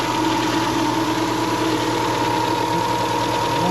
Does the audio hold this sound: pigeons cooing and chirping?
no